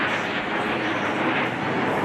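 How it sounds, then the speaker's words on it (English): Planes flying over a wrestling event in Cleveland, a loud continuous broadband roar of aircraft engines that fills the air steadily without letting up, with no voices heard. "Little upset over the flyover that's going on right now."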